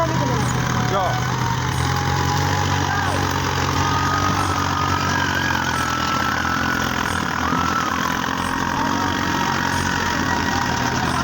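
A tractor engine labours loudly as it climbs a hill while pulling a container, with a steady throbbing drone and knocking that holds throughout and a voice talking over it.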